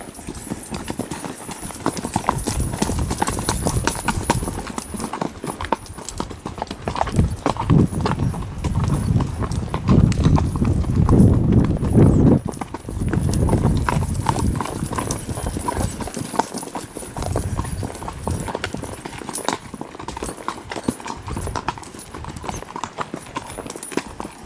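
Steady clip-clop of Tennessee Walking Horses walking on a hard surface, a continuous uneven rhythm of many hoofbeats close by, some hooves barefoot behind, with faint background murmur.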